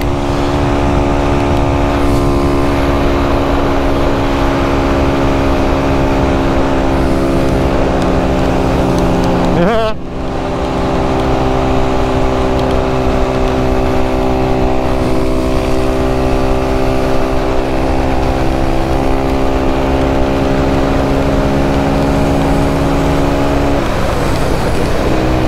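Honda Fan 125 and Fan 150 motorcycles race with engines droning loud and steady, and a sharp gear shift breaks the tone partway through before the revs climb again.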